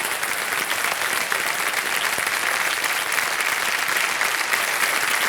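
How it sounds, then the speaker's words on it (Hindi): Studio audience on the Indian TV quiz show Kaun Banega Crorepati gives sustained, even applause from start to finish, a full crowd of clapping heard on its own without talk. "तालियां बज जाए इनके लिए"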